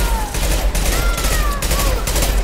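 Rapid video game gunfire in a shooter match, a dense run of sharp shots fired one after another at close range, with whistling and zipping tones threaded through the bursts.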